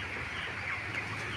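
A dense, continuous murmur of many broiler chickens clucking inside a farm shed on a hot day, a constant flock chatter at moderate level with no distinct single calls standing out.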